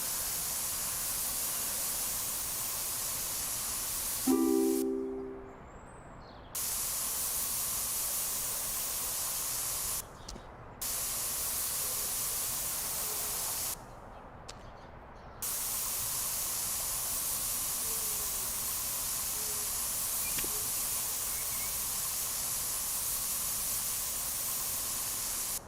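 A pressure washer in Power Wash Simulator sprays in a loud, steady hiss that runs almost continuously, cutting off briefly a few times before resuming.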